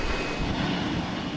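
A Boeing 787 Dreamliner on a demonstration tour gives off a broad, steady engine roar. It sounds loud and continuous, with no talking.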